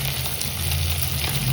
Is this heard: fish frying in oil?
yes